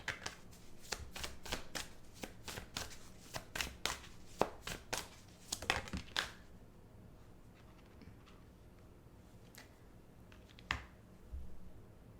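A tarot deck is shuffled in a rapid run of sharp, clicking riffles for several seconds before the handling falls to a quiet hush with a few scattered taps as a card is drawn. Nobody speaks.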